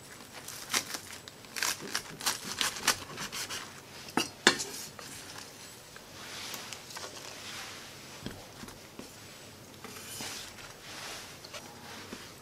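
A knife trims the uneven ends of green onions (jjokpa) for a seafood pancake, producing a cluster of sharp close cutting taps and clicks on a board early on, then quieter handling and scattered soft knocks.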